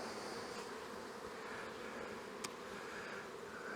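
Dense, continuous buzzing of many honeybees in an open hive box, a steady close drone with no talk and one brief sharp click partway through.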